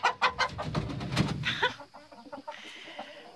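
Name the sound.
chickens clucking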